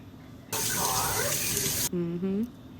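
A kitchen tap runs at full flow in a short loud burst of about a second and a half, then cuts off abruptly, with brief talking just after.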